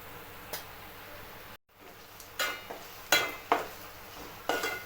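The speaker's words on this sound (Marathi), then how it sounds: "परतून घेऊ. जिंजर गार्लिक पेस्ट टाकते." Ginger garlic paste and turmeric sautéing in a pan for chicken biryani, with a low steady sizzle broken by a series of sharp stirring clinks and scrapes, growing more frequent toward the end.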